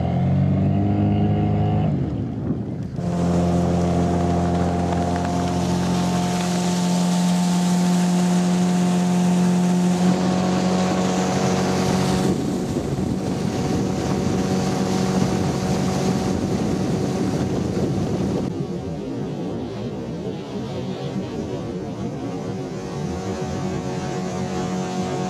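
A motorboat overtakes on a river near Astrakhan among lotuses, its engine a loud, strongly tonal drone that builds as it comes close, holds for a long pass, then recedes and thins out.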